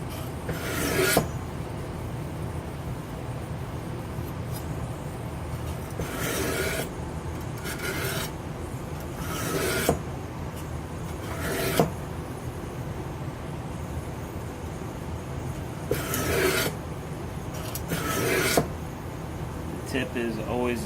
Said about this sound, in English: to keep that same angle and to get the tip sharpened, I have to turn this blade